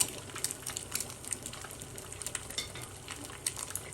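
An egg fries in oil in a pan in a small apartment kitchen, giving a steady, close sizzle with light crackles and occasional faint scraping.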